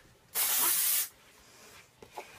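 A single loud hiss of an aerosol can spraying, lasting under a second, followed by a couple of faint clicks.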